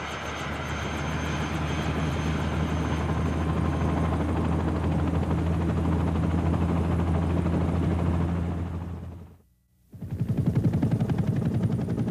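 Vietnam War medical evacuation helicopter, a loud, steady rotor and turbine roar close by, broken by a brief drop to silence near the end before the din resumes.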